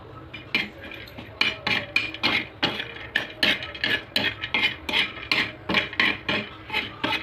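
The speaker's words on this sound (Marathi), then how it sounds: "आणि आता ह्याच्यामध्ये मी खोबरं भाजून घेते" Desiccated coconut being dry-roasted without oil in a pan for a Marathwada-style vada bhaji masala, with a spatula scraping and clinking against the metal in a steady, repeated rhythm, close and fairly loud.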